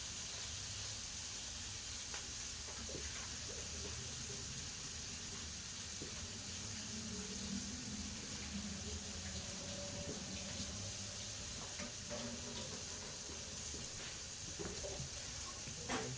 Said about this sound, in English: But you gotta wash your hands